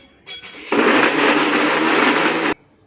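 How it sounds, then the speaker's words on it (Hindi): A kitchen mixer grinder whirs loudly and steadily for about two seconds while blending mango chutney with black jaggery. It gives a short start-up burst and then cuts off sharply, with no talking over it. "एंड मिक्सर चालू एंड इसे फिरा देती हूँ।"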